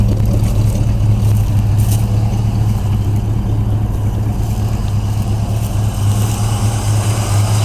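Engine of a 1959 truck with a chromed motor, idling smoothly and steadily close by, a constant low rumble with no revving or talk.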